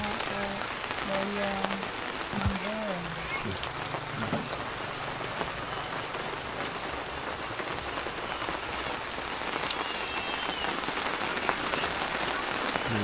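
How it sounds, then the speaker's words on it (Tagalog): Steady rain falls on a surface on a farm, a constant hiss with scattered drops, with faint distant voices and a few soft clunks early on. "Ulan."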